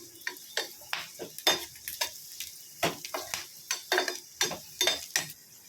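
Pirandai stalks for pickle sautéed in a pan, stirred with repeated scraping strokes over a soft sizzle, close and fairly loud, with no one talking.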